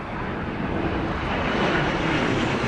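Airplanes land at London Heathrow Airport during Storm Darra, heard as a steady, loud roar of jet engines mixed with gusting wind and microphone buffeting, continuous and without speech.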